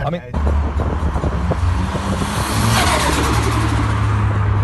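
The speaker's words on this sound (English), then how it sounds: "That noise, that chatter when the car spools up is just, you can't buy that." Ford Sierra Cosworth turbo engine revving and spooling up, loud and close with rising pitch and a chattering turbo note, with a person talking over it.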